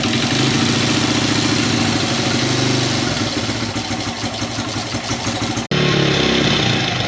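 A Honda XR motorcycle engine idles with a steady, loud mechanical chug, then cuts out abruptly near the end before catching again.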